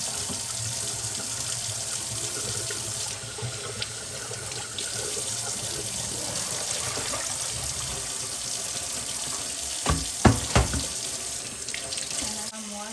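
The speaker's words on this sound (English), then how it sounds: "So I'm gonna drain the wash water now." Water runs steadily into a sink while lace-blouse wash water drains away, a constant close rushing hiss that lasts throughout, with a few brief knocks and clatters near the end.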